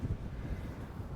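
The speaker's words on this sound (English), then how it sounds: "I apologize about the wind." Wind buffets an outdoor microphone beside a Mercedes G500, a steady low rumble and muffled gusting that fills the whole moment with no one speaking.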